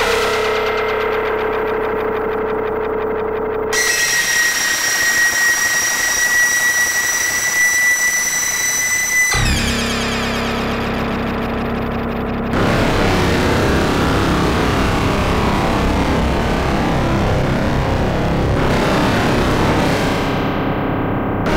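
A SOMA SimplexFM synth with comb filtering plays a hollow plucky tone, then bright metallic FM sustained notes, and finally a dense, harsh buzzing drone, loud and continuous with no voices.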